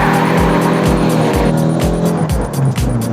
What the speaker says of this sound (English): Again, in the final corner, pull the handbrake.